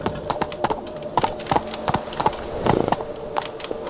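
Hooves of Roach, the horse in The Witcher 3, pound out a quick, steady galloping clip-clop rhythm, close and clear with no voices over it.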